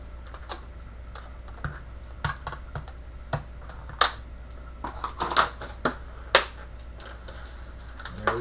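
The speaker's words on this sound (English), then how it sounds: "Better yet, I'll just cut the item out so that I can save the box." Product packaging for a Plate Power unit being cut open with a blade to free the item and keep the box, heard as a close string of sharp cuts, clicks and crinkles at an uneven rhythm, with no voices.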